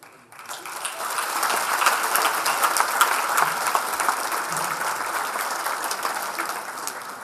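An audience at a music tribute event applauds to welcome an award-winning guest, with dense, sustained clapping that rises quickly and holds strong for several seconds.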